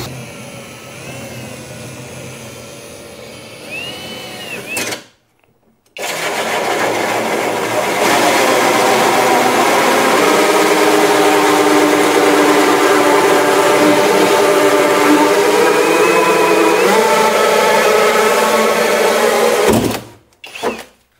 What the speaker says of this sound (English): I think I might need to actually use a pilot drill bit for those.